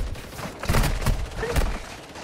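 Gunfire in a first-person shooter video game during a camo grind, with several bursts of shots at close range mixed with game sounds and a voice in the background.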